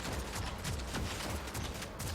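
Rapid bursts of gunfire from the Warhammer 40k Deathwatch video game rattle loudly and continuously across the short moment.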